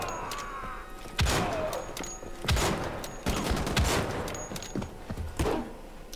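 Weapon fire from an explosive potato cannon in Wolfenstein: The Old Blood, a handful of loud, sharp blasts spaced unevenly through a busy game soundscape.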